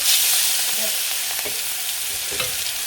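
Fish hitting hot oil sets off a loud, dense sizzle right at the start that settles into a steady hiss with occasional crackles.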